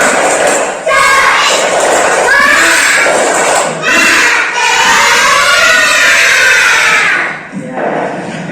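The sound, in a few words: children doing spirited clapping chant (tepuk semangat)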